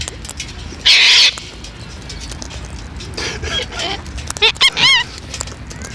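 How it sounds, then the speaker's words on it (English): A wild parrot gives a loud, harsh squawk, then a run of shorter chirping calls, heard close over steady background noise. "This is a wild parrot, and he was more grumpy with this guy biting him than he was me grabbing him."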